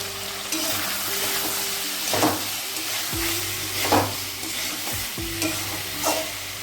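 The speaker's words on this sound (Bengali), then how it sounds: "আলুর সঙ্গে মশলাটা কষিয়ে নিয়েছি একবারে" Potatoes and spices frying in a pan, a steady close sizzle broken by several scraping stirs of a spatula at irregular intervals, without any talking.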